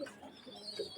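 Pigeons coo in low, soft repeated phrases, with a few rounded calls rising out of a steady faint background; no talking is heard.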